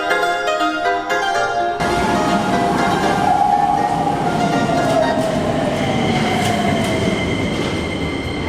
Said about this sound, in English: We just saw our first train stop